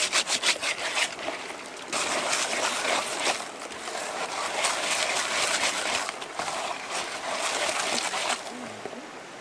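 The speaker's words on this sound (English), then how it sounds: "this pan is too shiny. And then it's not gonna work unless I scuff it up" A shiny gold pan is scuffed up with repeated rough rubbing and scraping strokes, close and rhythmic, a few short bursts at first and then longer sustained scouring passes with brief pauses between them.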